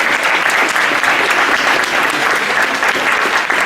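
An audience at a book presentation on constitutional law in Mexico applauds Trilce Villa, a dense, steady burst of many clapping hands that holds loud and close for the whole stretch.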